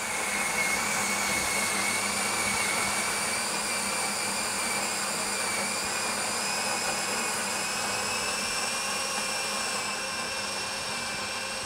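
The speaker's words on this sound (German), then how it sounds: "könnt ihr ja auch gleich mal auf das Geräusch des Mahlwerks hören" Melitta Caffeo Varianza CSP coffee machine grinder grinding beans, a steady, fairly loud whirring drone with high tonal whine that holds evenly throughout, no talking over it.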